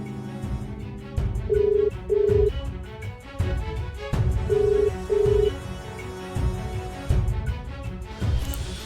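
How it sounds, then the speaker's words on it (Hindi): A phone rings in a steady repeating pattern of bright electronic tones over a busy background of music and clatter. "डेविड, हे, फोन क्यों नहीं उठा रहा?"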